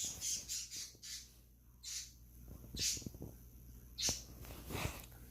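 Birds squawk repeatedly outside at seven in the morning, harsh raucous calls in irregular bursts, fairly close and prominent over a quiet background.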